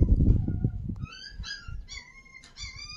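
Two rescued puppies, saved from the rain, give soft whimpers and yips; a low rumble and handling noise sit under the opening second, then thin high whines come in short, close bursts.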